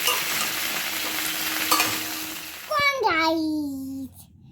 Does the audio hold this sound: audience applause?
no